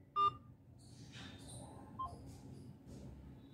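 Phone keypad tone from pressing 1 for an automated menu during mobile SIM activation, a single short, loud beep at the start, followed by faint menu audio and quiet background.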